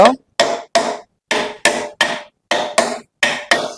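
Hammer strikes on a nut while repairing a jammed 1 hp water pump motor, nine sharp metallic blows in a steady rhythm, loud and close with brief gaps between them.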